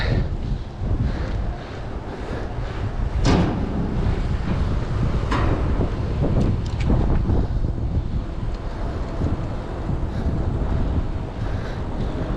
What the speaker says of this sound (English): Now I'm going against the wind.